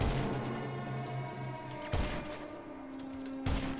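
Gunfire in a GTA match, with sharp shots at intervals over a steady game soundscape with sustained tones.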